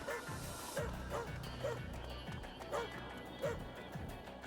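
In the video game Astral Chain, a dog barks in a steady series of short woofs over a busy, continuous game soundscape with music and effects.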